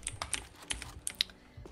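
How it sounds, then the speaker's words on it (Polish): Typing on a mechanical computer keyboard during a game session produces a quick, irregular patter of crisp clacks and faint key pings, nearby but fairly quiet, with no talk. "Masz w ogóle klawiaturę mechaniczną, co nie?"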